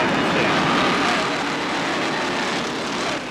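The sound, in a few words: Apache helicopters hovering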